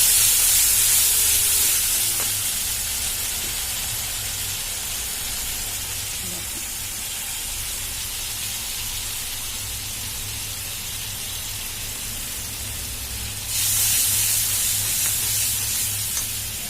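Tomato paste frying in hot oil in a pan while being stirred, a steady loud sizzling hiss that fills the whole stretch and swells again near the end, with no clear talking.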